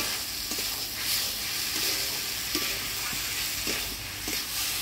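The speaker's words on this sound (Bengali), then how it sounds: "চর্বি দিয়ে মশলার সাথে ভালো করে নাড়াচাড়া করে নেব।" Goat fat being stirred with cooked spices in a pan for ghugni, a soft continuous sizzle broken by scattered scraping taps of the spoon, close and moderately quiet.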